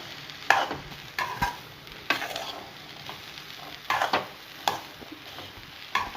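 Masala being stirred into boiled chickpeas for street food, with repeated close scraping and clattering strokes of a spoon against the pan over a soft background sizzle, and no voices.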